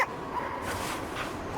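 Puppy barking in the video game Cryostasis: small yips and whimpering barks over a steady background hum, moderately close and fairly faint.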